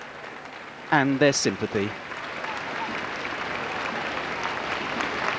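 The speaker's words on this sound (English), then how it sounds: "she was warmly applauded by the crowds that had gathered" Crowds gathered along the route of the Queen's return to Buckingham Palace applaud steadily in a broad, distant wash of clapping, following a short spoken phrase from a news reporter.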